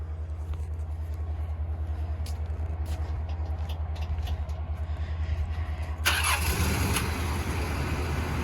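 A Nissan 200SX S12 car engine sits under a steady low mechanical drone, then fires into a sudden louder, rougher roar partway through and keeps running close by, with no talking.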